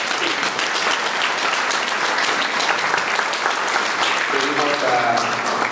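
Sustained applause from a crowd, dense clapping filling the room, with a voice speaking briefly near the end.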